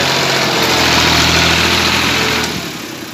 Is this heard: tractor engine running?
yes